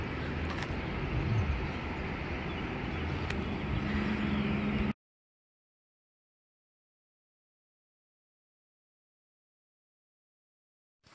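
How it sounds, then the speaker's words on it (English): Road traffic near Harpers Ferry National Historical Park makes a steady distant rumble of passing vehicles for about five seconds, then cuts to silence. "And yes, you hear traffic."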